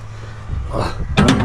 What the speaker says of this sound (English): We might have to open this other door.